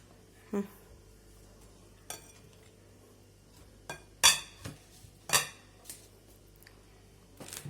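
A spoon clinks and scrapes against a bowl while mosaic cake mixture is stirred in a home kitchen, giving a handful of sharp, separate taps and knocks amid quiet pauses.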